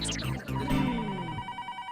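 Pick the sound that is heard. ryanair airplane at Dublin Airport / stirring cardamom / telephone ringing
telephone ringing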